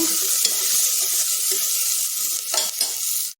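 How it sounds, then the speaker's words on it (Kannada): Bright, steady sizzling of potatoes and peas frying in hot oil tempering, with a few scraping stirs of a spoon in the pan near the end. "ಈ ಒಗ್ಗರಣೆಗೆ ಹಾಕ್ಕೊಂಡ್ಬಿಟ್ಟು ಒಂದು ಸುತ್ತು ಕಲಿಸೋಣ"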